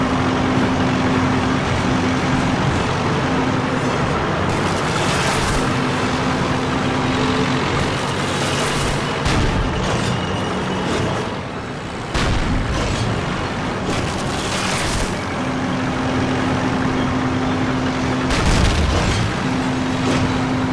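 Rumbling tank engine and heavy booms in Call of Duty (2003), a Soviet tank battle, with a steady low drone throughout and several loud blasts breaking over it.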